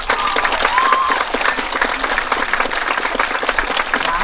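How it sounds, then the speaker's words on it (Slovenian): Sustained, loud audience applause fills a choir festival hall, dense clapping holding steady throughout with a brief whistle or cheer near the start. "A lahko še bolj na glas zaploskate?"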